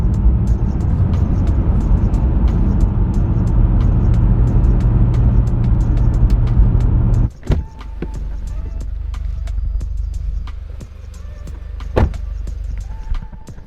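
Mitsubishi Evo X, once abandoned and now on its first drive with fenders unbolted and no lights, heard as a steady loud engine and road drone inside the car that drops abruptly partway, then a quieter idle with faint clicks.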